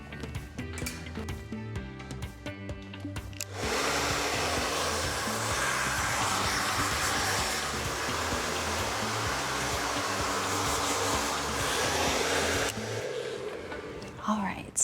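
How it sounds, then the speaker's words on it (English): A hair dryer rough-drying damp hair switches on after a few seconds of quiet handling noise and roars loudly and steadily at close range for about nine seconds, then cuts off. "I'm going to rough dry my hair to get rid of some of the moisture."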